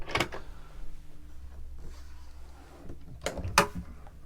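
Drawers sliding open and shut aboard a Fairline Squadron 58 luxury motor yacht, with two sharp wooden clunks, one at the start and another near the end, separated by a quiet stretch of low cabin hum.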